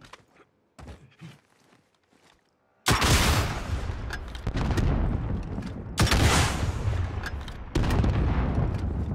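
Gunfire in the Warzone video game, a loud sustained burst of shots and blasts that starts abruptly after a few quiet seconds and continues densely to the end, surging again in later bursts.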